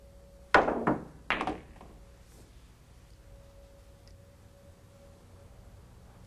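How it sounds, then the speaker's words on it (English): Pool balls collide on a table during a time-shot trick in which the 8 ball is pocketed in the side pocket: a few sharp, close clacks and knocks in quick succession, then a quiet room with a faint hum. "I'm going to pocket the 8 ball in the side pocket."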